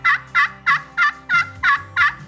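Pot-style turkey call worked with a peg in small circles, seven evenly spaced, sharp yelping notes close up and loud, alone without talk.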